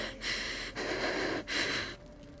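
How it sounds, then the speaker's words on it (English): Someone breathes heavily and close into a microphone, three slow breaths in a row, loud and airy, with no talk. "stop breathing into the mic"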